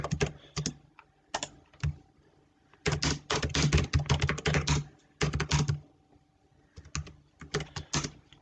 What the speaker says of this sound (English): All you have to do is type in the gaps